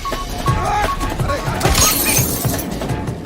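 Glass shattering from a gunshot in an action film scene, a loud crash with scattering shards over continuous background sound and voices.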